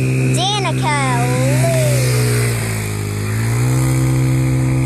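A child's bike runs with a steady engine drone that holds a constant pitch and dips slightly in the middle, loud and close, while a voice rises and falls over it early on.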